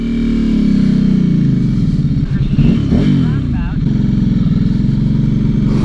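A 2012 Ducati Hypermotard 796 fitted with a Termignoni exhaust, revving hard with the clutch in, a loud deep engine roar that climbs and falls in pitch, heard up close from the rider's position.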